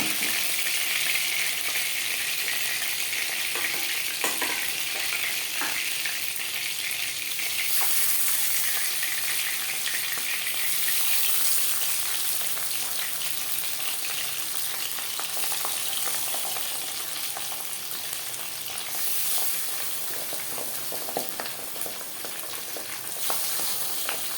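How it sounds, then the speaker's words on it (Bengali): Pabda fish frying in hot oil, a steady dense sizzle that holds loud and even throughout with occasional small pops and crackles, no voices present. "পরের মাছ একইভাবে ভেজে নেব।"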